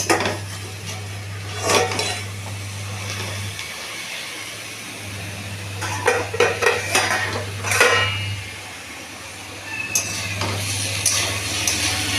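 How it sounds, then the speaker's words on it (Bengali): A metal lid is lifted off a cooking pot on the stove, giving a few clanks and scrapes at intervals over a steady low hum. "ঢাকনাটা তুলে দেখি কতটুকু কী হয়েছে"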